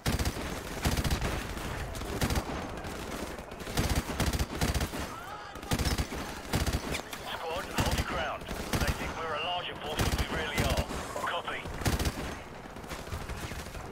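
An M249 SAW machine gun in the Call of Duty 4: Modern Warfare campaign rattles off repeated bursts of loud automatic fire mixed with other battlefield gunshots, with a voice commenting over it.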